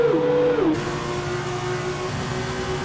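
F2 race car engines at Bahrain, a high engine note dropping sharply in pitch as a car brakes, then a steady drone of engines continuing, loud and near with no talk.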